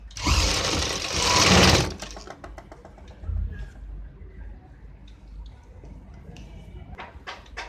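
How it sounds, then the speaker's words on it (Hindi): Sewing machine stitching joined fabric strips for a patti paan neck design, one loud burst of stitching for about two seconds near, then quieter handling sounds with faint speech in the background. "यहाँ से इस तरीके से पट्टी को सिलाई कर देते हैं"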